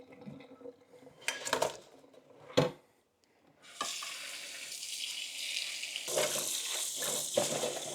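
Cold tap water splashes over freshly boiled eggs in a kitchen pot, a steady rushing stream that follows a few clanks of cookware and light handling.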